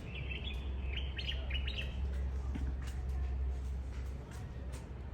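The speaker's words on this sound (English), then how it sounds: "The birds are singing, so I had to let y'all hear them" Birds chirp and sing in repeated short, bright phrases outside a small round house in the Gambia, moderately close over a steady low rumble of outdoor background noise.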